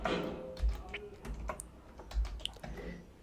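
Keys clatter on a computer keyboard in short bursts of close, crisp taps with a few heavier thunks, recorded near a desk without speech.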